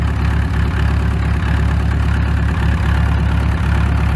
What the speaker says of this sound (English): Runs a lot better on diesel than it does on the gas side.